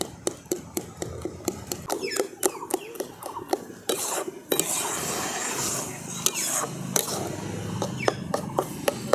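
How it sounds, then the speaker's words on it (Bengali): A spoon stirs and scrapes through a thick mix of milk, rice flour and mung dal flour being worked into dough in a bowl, giving repeated sharp clinks and rubbing scrapes, close and fairly loud. "দুধটার সঙ্গে চালের গুঁড়ো আর মুগ ডালের যে গুঁড়োটা তৈরি করে নিয়ে এসেছিলাম, সেটা খুব ভালো করে মিশিয়ে আমি একটা ডো তৈরি করে নিচ্ছি"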